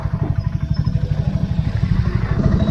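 A BSA Gold Star 650 motorcycle rides over a broken, potholed road, its engine thumping in a steady low pulse with light clatter from the chassis, close and continuous throughout.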